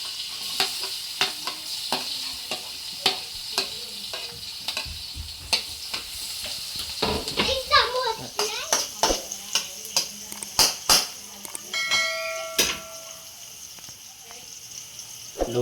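Chopped garlic frying in melted margarine in a pan over low to medium heat, a soft steady sizzle broken by frequent scraping clicks of a spatula stirring, close and quiet, with someone talking over it.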